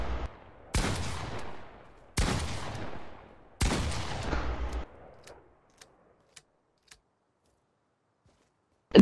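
Fortnite automatic weapon fire in three loud, separate bursts of rapid shots, each trailing off, followed by a few faint isolated clicks and near-silence.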